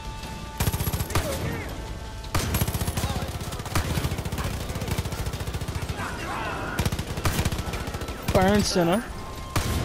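Shotgun blasts and rapid gunfire from the video game Far Cry 5, loud and repeated in bursts across the clip, mixed with game music and someone talking over the action.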